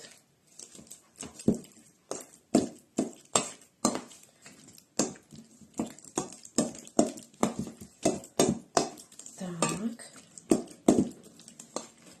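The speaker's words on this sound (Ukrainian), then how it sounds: "І так гарно розмішуємо маргарин із сметаною" A spoon beats margarine and sour cream together in a bowl, making a fast, steady series of about two dozen sharp knocks and clacks close by, with a brief voice partway through.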